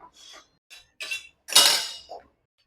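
Fork mashing slightly overboiled potatoes in a metal dish or pot, heard as a few short clinks and scrapes in bursts, the loudest a longer scraping smear near the end, with no talk.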